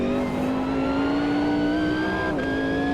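GT1 race car in the sim racing game Automobilista 2, its engine revving high and steady as the pitch climbs continuously, then dipping briefly with a gear change before rising again, loud and close with no talk.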